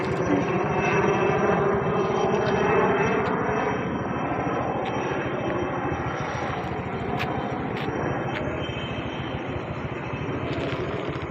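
A helicopter flies overhead with a loud, steady engine roar that eases slightly after the first few seconds and continues without speech.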